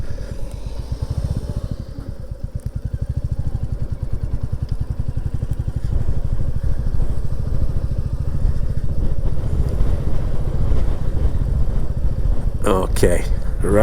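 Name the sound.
Royal Enfield Classic 350 motorcycle riding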